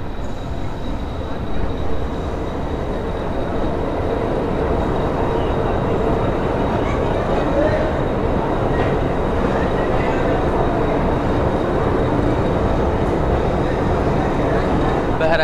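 A meter gauge train at Nanpara Junction rumbles steadily and loudly throughout, with a continuous rolling wheel noise and no clear break.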